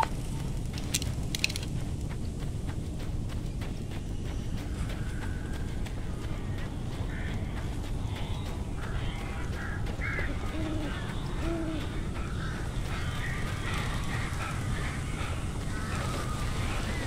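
Birds call faintly in the Alan Wake video game, scattered chirps over a steady ambient hiss, joined by creaking mechanical ticks and clopping, with no speech.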